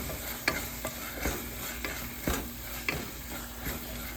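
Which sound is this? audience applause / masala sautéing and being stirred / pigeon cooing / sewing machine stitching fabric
masala sautéing and being stirred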